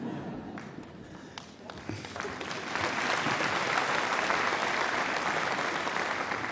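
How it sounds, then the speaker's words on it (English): Graduation ceremony audience at the University of South Wales breaking into applause during a speech, scattered early claps swelling into full, sustained clapping from a large crowd. "Your applause will grow ever more ironic as you proceed into the world we've created for you."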